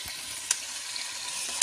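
Onion and tomato paste frying in oil over a wood fire, a steady soft sizzle with two sharp crackling pops spaced about a second apart.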